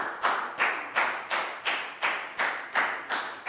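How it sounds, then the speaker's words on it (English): A small class claps for a student at the front of a primary English lesson, about nine even, sharp claps in a steady rhythm, close and fairly soft, with no talking. "High five, big round of applause."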